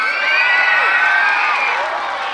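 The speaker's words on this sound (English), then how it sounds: "Give a big round of applause to all of our recipients" A crowd of children at an elementary school showcase cheers and whoops loudly for award recipients, with a sustained wash of high voices and shouts that stays at an even level throughout.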